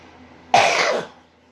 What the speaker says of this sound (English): Coughing in my sleeve.